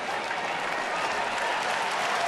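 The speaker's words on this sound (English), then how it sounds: "a round of applause because of the effort" Baseball fans in a stadium crowd give sustained applause, a dense wash of clapping and crowd noise heard from a distance and holding steady at a moderate level.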